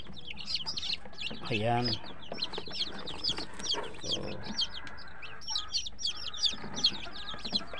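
Newly hatched day-old chicks peep near the mic in an incubator setup, making a continuous chorus of high, rapid cheeping with occasional deeper clucks, while someone speaks over them.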